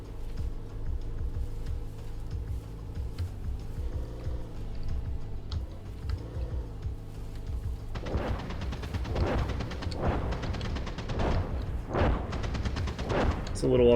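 Gunfire from a tank combat simulation game, a rapid sequence of sharp, evenly spaced bursts that starts midway over a steady engine hum and keyboard clicks.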